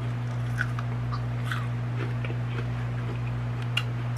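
Crunchy bites into crispy fried fish, a string of faint crackling crunches over a steady low electrical hum.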